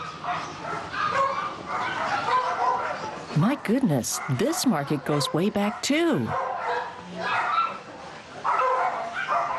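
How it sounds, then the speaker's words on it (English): Several puppies bark and yelp in a quick overlapping burst in the middle, loud and close, amid street noise in Dalian, China and a person talking nearby. "I hear dogs barking."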